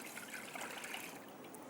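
About a litre of water poured into a large cooking pan on a home stove, a soft, faint continuous trickle and splash lasting under two seconds with no voices.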